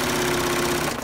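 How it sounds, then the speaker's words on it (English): Sewing machine running a presser foot along the bottom edge of fabric for a reversible bib, a continuous close mechanical hum with a steady tone and no voices. "I'm gonna come all the way around this bottom edge, just running my presser foot right along the side of the fabric"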